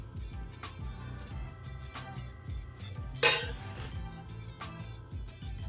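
Grits and shrimp are ladled into a serving dish, with soft scraping and one sharp metal-on-dish clink partway through, all close and quiet with no voices.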